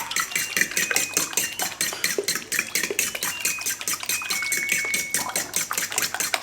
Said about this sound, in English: There's our dishwashers at the end of the cycle.